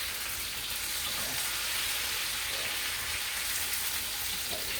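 Mushrooms frying in a pan, a loud, dense, continuous sizzle like heavy rain, heard up close with faint stirring scrapes underneath and no talking.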